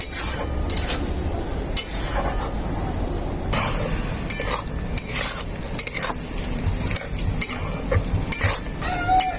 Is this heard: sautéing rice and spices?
yes